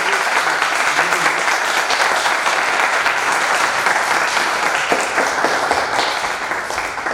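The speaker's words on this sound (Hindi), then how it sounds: "एक बार जोरदार ताली" A theatre festival audience applauds loudly and without pause, many hands clapping in a dense, even roar from start to finish that fades a little at the end.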